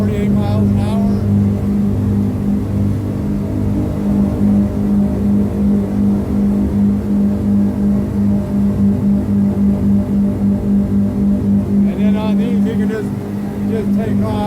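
A boat motor runs at a steady speed near 48 mph while its trim is manually adjusted, giving a loud continuous drone that holds even throughout, with someone talking over it.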